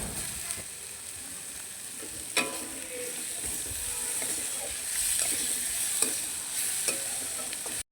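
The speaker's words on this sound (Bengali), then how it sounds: "ক্যাপসিকামটা হালকা করে ভাজা হয়ে গেছে, এবার এর মধ্যে টমেটো কুচিটা দিয়ে দেবো," Chopped tomato and capsicum fry in a pan for egg chili, with a steady sizzle throughout and occasional scraping clicks as a spatula stirs them, close by and free of speech.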